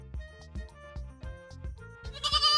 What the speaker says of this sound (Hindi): भेड़ अकेले की वजह से जोर जोर चिल्लाने लगा